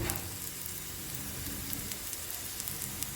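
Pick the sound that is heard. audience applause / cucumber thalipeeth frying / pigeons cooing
cucumber thalipeeth frying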